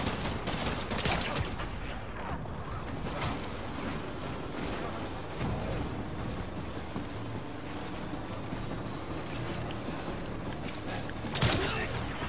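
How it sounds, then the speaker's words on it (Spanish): Continuous Death Stranding gunfire and explosions crackling throughout, dense and noisy, with a sharp louder burst near the end; faint voices mixed in. "estos disparan un arma de fuego"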